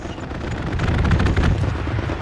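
Heavy gunfire from a strafing run in the World War II shooter Hell Let Loose, a dense rolling barrage of shots and booms that swells and stays loud, with no talking.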